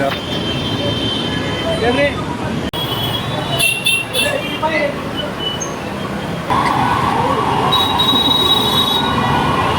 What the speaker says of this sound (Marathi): मेट्रोमध्ये